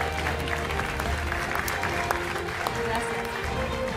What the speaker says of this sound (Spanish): Aplausos para ellos tres.